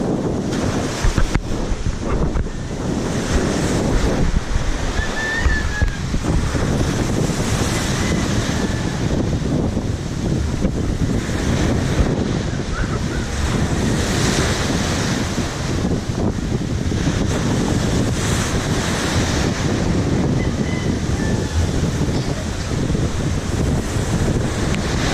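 On a windy tropical coast, strong gusts buffet the microphone with constant, loud roaring noise. Surf-like rushes swell and ebb throughout.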